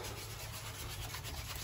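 Sandpaper rubbing across a rustic cedar wood coat rack, a continuous close, even abrasive scrubbing with no pauses.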